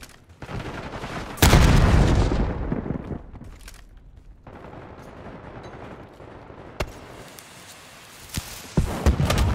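In a Call of Duty: Black Ops 6 match a frag grenade detonates with a loud close boom that decays over a couple of seconds, followed by scattered sharp gunshots and another burst near the end.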